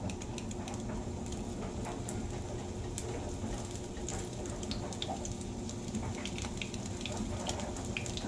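Apple fritters frying over medium-high heat in a pan, a steady dense crackling patter like running water that continues evenly throughout at moderate volume with no talking.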